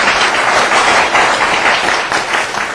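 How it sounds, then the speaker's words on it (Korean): Loud, continuous applause from an audience at a Korean conservative talk gathering: many hands clapping in a dense, even wash with no pause. "박수 쳐드립니다"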